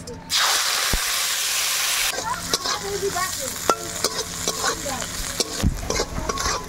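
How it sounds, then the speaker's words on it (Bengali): Cashews and raisins hit hot oil in a pan with a loud burst of hissing sizzle, then settle into softer crackling frying broken up by spatula stirring clatter. "এবার ভেজে নেব কাজু কিশমিশ।"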